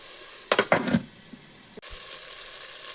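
Tomato paste sizzling in hot oil for chicken biryani, with a few sharp stirring scrapes and clatters early, then a soft steady frying hiss.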